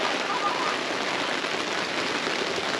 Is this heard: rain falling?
yes